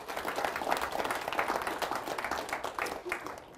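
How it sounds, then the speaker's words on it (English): An audience at an ethical leadership address gives a round of applause, a close, busy patter of many hands clapping that stays strong and then thins slightly toward the end. "I want to give them a round of applause in absentia"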